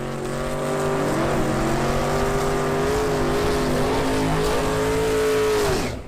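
A Barracuda and a Camaro drag racing cars blast off together, their loud engines roaring near and steady with climbing, shifting tones for about six seconds before cutting off abruptly.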